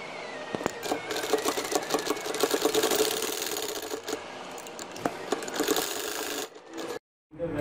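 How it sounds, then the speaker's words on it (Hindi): A sewing machine stitches a zip onto the back of a kameez in one fast, rattling run that lasts several seconds, then stops briefly near the end before starting again. "इसी तरह मैं दूसरी तरफ से इसको सिलाई कर लूंगी।"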